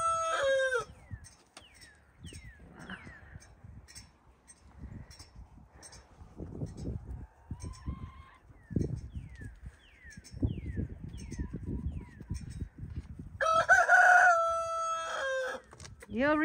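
Rooster crowing several times alongside chicken clucking, loud and close, with rising calls repeating through the stretch and overlapping bursts of voices and commotion.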